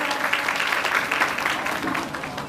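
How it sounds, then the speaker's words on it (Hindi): Hearty audience applause greets a gift recipient at an award presentation during a skills-training event in Uttarakhand, a dense, steady wash of clapping lasting a couple of seconds. "जोरदार तालियों के साथ स्वागत करें।"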